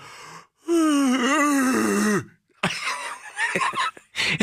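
A voice imitates a strained, screechy yawn: a long wavering groan that slides down and cuts off, followed by breathy, raspy noises.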